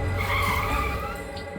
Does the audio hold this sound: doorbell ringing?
no